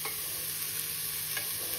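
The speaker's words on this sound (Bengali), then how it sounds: "এখানে ভাজা হচ্ছে," Ingredients frying in a pan for homemade chicken soup, a dense continuous sizzle with faint stirring, close and steady for its short span with no talk.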